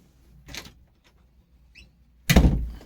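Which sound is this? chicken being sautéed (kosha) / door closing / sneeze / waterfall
door closing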